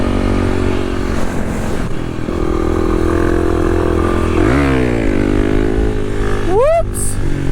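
A Kawasaki KLX dual sport motorcycle rumbles continuously while being ridden, with wind buffeting, a couple of rising revs near the end, and a voice talking faintly over it.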